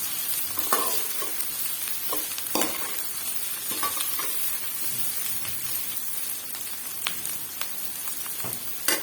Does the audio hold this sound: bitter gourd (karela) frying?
yes